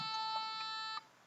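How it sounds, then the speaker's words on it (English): A Lego Mindstorms EV3 robot emits a steady electronic tone lasting about a second, clean and sustained, then cuts off abruptly, leaving only faint background hiss. "it now will beep as I back up to be 25 to 75 centimeters away"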